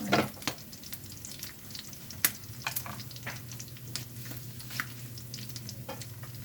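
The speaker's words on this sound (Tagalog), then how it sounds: "Ako po talaga nagpiprito ng bangus. Kailangan ko may takip. Pag hindi, hahabulin ako ng oil." Milkfish sizzles and crackles in hot oil, with steady frying hiss and scattered sharp pops and spatters throughout.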